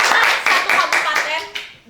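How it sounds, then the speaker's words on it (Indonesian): A small audience claps for a school press club during a podcast session, a short burst of brisk, close applause that fades out within two seconds. "Tepuk tangan dulu pers, keren banget, 1 kabupaten"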